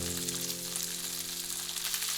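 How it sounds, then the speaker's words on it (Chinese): Slices of Cantonese radish cake pan-fry in oil over medium heat, giving a continuous even sizzle close by over a low steady hum, with no talk. "两面煎黄。"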